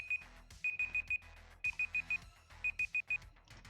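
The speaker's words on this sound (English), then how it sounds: "And there goes the alarm." A kitchen alarm clock goes off in bursts of rapid, bright beeps, four or five at a time with short pauses between groups, loud and clear over a low background hum.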